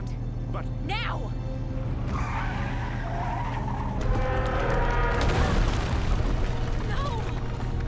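Car tires skid and squeal in a Batman video game, a sustained screech swelling midway over a steady engine drone and game effects, with voices talking over it.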